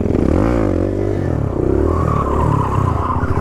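A motorcycle on an Indonesian street rumbles past up close, its engine drone loud and steady with rising and falling pitch across the whole stretch, no talk over it.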